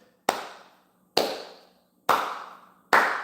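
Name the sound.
hand clapping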